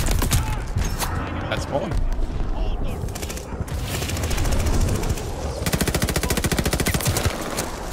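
Rapid video game gunfire, a shotgun among the shots, in fast repeated bursts with loud close reports and rattling bursts, while someone talks briefly over the shooting.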